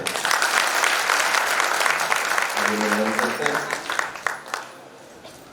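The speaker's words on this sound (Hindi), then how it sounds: "जोरदार तालियों से" An assembly at a youth camp at Shantikunj breaks into loud, sustained applause for a Bhojpuri song performance. The clapping fades toward the end while a voice speaks over it.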